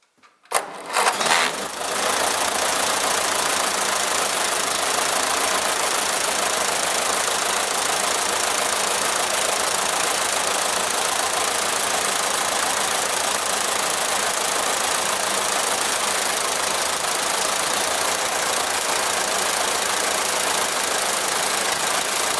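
Ferguson TEA 20 petrol/TVO tractor engine cranking and catching, then settling into a steady, loud, close running chug that holds unbroken for about twenty seconds, with no one speaking.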